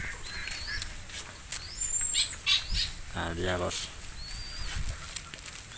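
Soft cooing and chirping of a tame zebra dove close by while being fed, with a brief flutter of wings, while someone speaks briefly over it.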